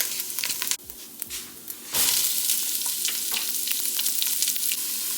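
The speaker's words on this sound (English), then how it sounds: "I'm going to get my onions started." Onions sizzle and fry in a pan for a vegan lasagna soup, a loud steady crackle that jumps up after a brief stir and clatter, with scattered spatter pops and no talking.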